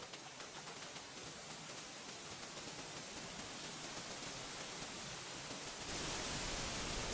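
A steady, dense rush of falling water from a waterfall in Black Myth: Wukong, loud and unbroken throughout and swelling slightly near the end, with no voices.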